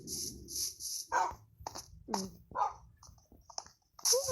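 Dogs in Minecraft bark and yip in short, scattered bursts amid electronic game sounds, fairly faint and intermittent.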